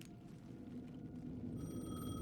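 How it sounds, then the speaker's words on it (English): A payphone rings in the video game Alan Wake 2. It is faint, with a steady tonal ring rising toward the end over a low rumbling background, and no voices are heard. "Payphone was ringing."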